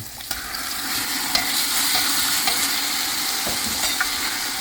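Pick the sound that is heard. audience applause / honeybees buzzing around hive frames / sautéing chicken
sautéing chicken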